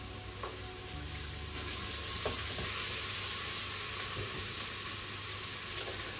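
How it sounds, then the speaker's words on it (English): Finely chopped onions frying in a pan with salt and pepper, a steady close sizzle with a few light spatula scrapes and taps scattered through, no talking. "This is where we're going to want our spatula to give it a good stir."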